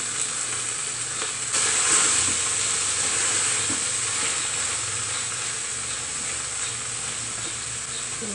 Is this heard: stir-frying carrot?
yes